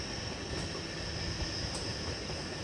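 Maharashtra Express running on ICF coaches rolls past in a steady, broad rumble of rail noise that holds constant throughout, with no voices.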